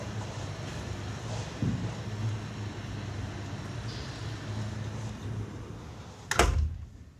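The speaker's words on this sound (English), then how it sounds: "I'm gonna shut this door because the construction might be kind of loud" A door is shut with a single sharp thud near the end, heard against a steady low hum of background noise from construction outside.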